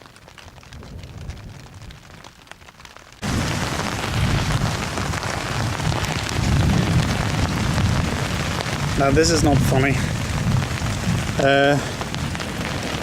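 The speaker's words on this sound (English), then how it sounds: "It started raining like something mad, and I just found out that my old tarp is leaking" Heavy rain drums steadily on an old, leaking tarp shelter during a storm, starting abruptly after a quiet moment and holding as a loud, dense wash, with someone speaking briefly over it.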